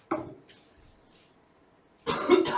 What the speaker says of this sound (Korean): 나도 오늘 갑자기 기침이 나네.